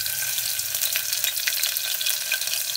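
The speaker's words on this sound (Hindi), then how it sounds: "जीरा पक चुकी है, अब इसमें हरी मिर्च काट करके डाल देंगे चार" Chopped green chilies frying with cumin in hot oil, a dense, close, steady crackling sizzle with small pops, heard alone without speech.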